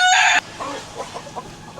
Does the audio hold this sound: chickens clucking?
yes